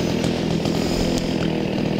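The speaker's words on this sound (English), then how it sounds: "Somebody's just started it with a chainsaw or something." A chainsaw runs nearby in a garden as a neighbour cuts down a tree, its engine droning loud and steady with brief bursts of revving.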